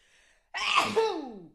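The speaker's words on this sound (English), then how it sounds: "I'm going to sneeze real quick." A single loud, close sneeze bursts out after a brief breathy intake, trailing off in a falling vocal tail.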